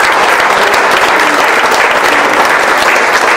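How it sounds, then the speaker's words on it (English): Audience applauding election candidates at a Papworth Trust hustings for the Cambridge parliamentary seat in 2015, a dense, even burst of many hands clapping indoors with no talk. "I'd just ask you to give them a round of applause"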